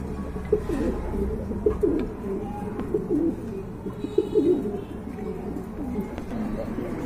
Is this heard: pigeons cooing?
yes